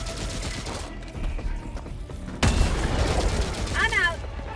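Heavy gunfire from a big gun in a video game: a sharp, loud burst of shots that kicks in partway through and keeps rattling over a steady game background, with a voice talking over it.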